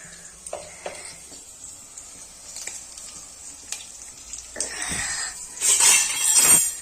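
Food sizzles softly in a pan while a spoon scrapes and taps against it in scattered strokes, and the frying builds louder and busier near the end.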